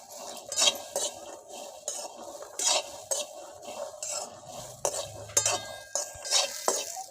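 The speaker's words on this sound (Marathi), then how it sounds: "कढई गरम झाली थोडी भाजून घेते." Green peas are dry-roasted and stirred in a hot kadhai over a wood-fired stove, making soft, rhythmic scraping and rattling strokes in short bursts with quiet gaps between.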